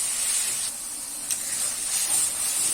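Masala sizzling and frying in a pan for broccoli sabji, a steady close hiss that holds at an even level throughout with no speech.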